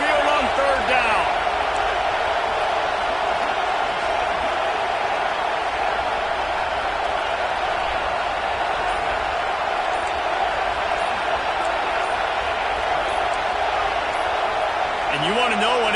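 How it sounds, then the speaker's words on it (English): Sustained roar from the Alabama Crimson Tide home crowd at Saban Field during a third-down play, a loud, dense wall of noise holding steady throughout with a few brief whistles and shouts riding on top. "The Tide crowd rolling noise down onto Saban Field on third down."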